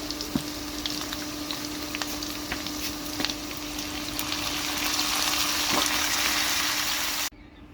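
Eggplant pieces drop into hot oil and fry, a loud steady sizzle swelling as more goes in, with scattered small ticks and pops before cutting off abruptly.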